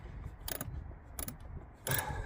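A tool tightens the air filter housing bolts on a 2010 Peugeot 3008, producing three short, sharp clicking ratchet bursts spaced apart over quiet mechanical background.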